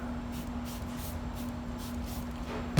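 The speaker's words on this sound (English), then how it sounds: "So I'll spray that." Short repeated hisses from a spray bottle of disinfectant, several quick squirts close by over a steady low hum, with no one talking.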